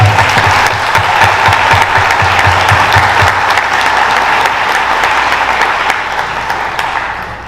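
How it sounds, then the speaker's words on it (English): Audience applause at a board of education meeting, a dense wash of many hands clapping loudly and steadily with a few low voices early on, sustained for the whole stretch and tapering slightly at the end. "Let's give him a round of applause."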